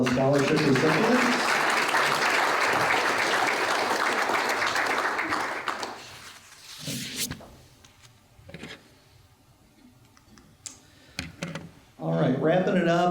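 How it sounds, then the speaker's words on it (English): Applause for scholarship recipients at a chamber of commerce awards luncheon, sustained clapping for about six seconds that fades into quieter room noise before a voice resumes. "one more round of applause for all the scholarship recipients"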